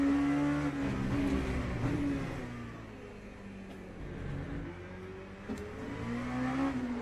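An LMP3 race car in the Le Mans Ultimate racing game revs steadily, its engine tone rising and falling through gear changes, heard at moderate volume without talk.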